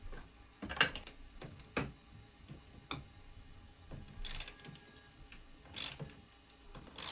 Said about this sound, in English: using a thin open end wrench to keep the bearing shaft from turning, we remove the nuts of the outer frame component bearings